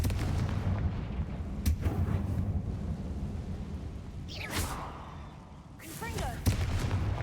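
Confringo fire spell blasts in a Hogwarts Legacy game battle, a rumbling, crackling barrage with sharp bursts around the middle and end, layered over continuous low booming game noise.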